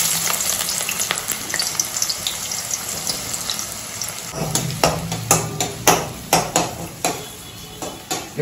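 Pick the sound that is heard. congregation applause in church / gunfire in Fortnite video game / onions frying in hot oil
onions frying in hot oil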